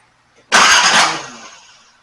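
A 1980 Datsun 280ZX that sat dead for 26 years is bumped over once, giving a single loud, close burst of engine noise that fades away over about a second.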